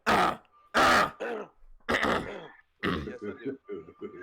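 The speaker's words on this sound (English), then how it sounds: "Let me clear my throat." Several throat clearings and gruff grunts from a podcast host, close and loud, in rough bursts with short pauses, trailing into softer throaty sounds and a faint steady hum.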